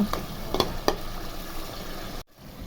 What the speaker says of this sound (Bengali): এখন আমি একটু নেড়ে চেড়ে দিব